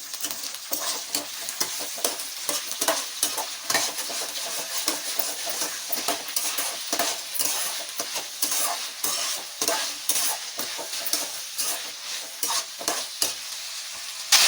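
Ivy gourd (tindora) pieces frying in oil for a tindora tomato curry, a continuous close sizzle with regular scraping stir strokes throughout.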